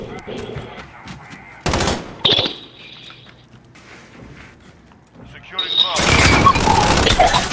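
Bursts of gunfire in a shooter video game, Domination mode: a sharp volley, quieter stretches with faint shots, then a heavy sustained fusillade toward the end, loud and close.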